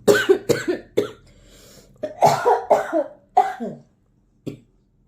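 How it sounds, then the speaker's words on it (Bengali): A person coughs repeatedly and close by in uneven clusters of sharp bursts with pauses between them, ending with one single cough. "কাশি"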